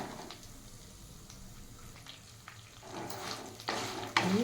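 Green chillies and seasoning seeds fry in hot oil in a home kitchen while chutney is prepared, giving a steady soft sizzle with stirring scrapes, growing louder toward the end with a sharp clatter.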